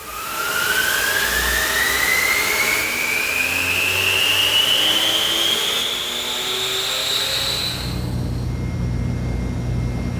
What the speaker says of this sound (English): If you have one, an air mover can speed up the process